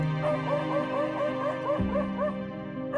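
A dog locked in a fight with a leopard gives a quick run of high yips and whimpering cries, fairly close, over steady background music.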